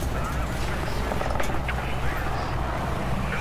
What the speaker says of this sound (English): Whoa, helicopter.